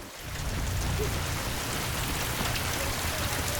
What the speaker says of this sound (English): Typical London weather surprised us with a quick rain shower